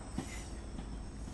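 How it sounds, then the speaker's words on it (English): A Pendolino train passing at New Street in Train Sim World 6, a steady rumble of rolling rail wagons with faint wheel squeal, continuous and fairly close throughout with no talk. "Pendolino. Another one over there."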